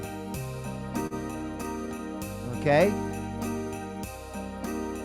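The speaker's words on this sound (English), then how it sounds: "Now we have the sleigh bells coming in." Sleigh bells from an organ's orchestral preset jingle over sustained organ chords with an added flute-like tone, shimmering above the held harmony while a voice briefly speaks.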